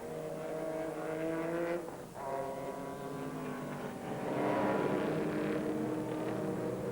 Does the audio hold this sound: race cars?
yes